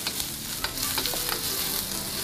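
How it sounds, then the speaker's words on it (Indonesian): Garlic and ginger sauté in hot oil, giving a loud, steady sizzle close by. A few soft taps and scrapes of a stirring utensil punctuate the frying. "tumis bawang putih dan jahe."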